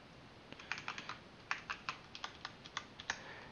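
Keystrokes tap on a computer keyboard while an address and zip code are entered into an online checkout form, a quick irregular run of close, light clicks over quiet room tone.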